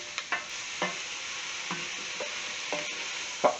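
Ham stirred into a pan of cooking onions sizzles under a spatula that scrapes and taps several times at an uneven rhythm, close and moderately loud, with no talk.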